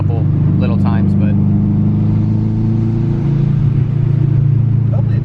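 A big-turbo Subaru WRX with a catless Blitz Nur Spec exhaust rumbles at steady idle, a loud, deep, lumpy burble that holds throughout while people talk over it.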